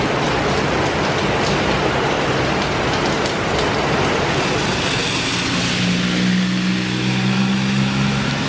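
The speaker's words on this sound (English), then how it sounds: "it really is pouring down" Heavy rain pours down steadily in stormy weather on Phuket, a loud, continuous broadband wash close by, with a low hum entering partway through and no voices.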